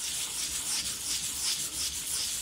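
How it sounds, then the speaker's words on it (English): Sandpaper rubbed back and forth over a cabochon's edge to flatten a bevel, a steady close scratchy hiss with gentle rhythmic pulses and no talking. "I'll just probably just get some sandpaper and just go like this"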